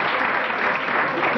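An audience breaks into steady, dense applause as a performer takes the stage, a brief loud burst of clapping with no pause.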